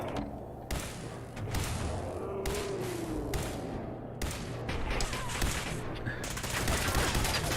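Turret gunfire in Fallout 4 crackles in repeated bursts of rapid shots over a continuous rumbling game background, moderately loud and fairly steady, with a faint mechanical whine in the middle.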